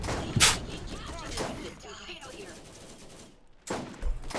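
Sharp sniper rifle shots from an Eridian weapon in Borderlands ring out, two loud cracks separated by a few seconds, with someone talking and game noise underneath.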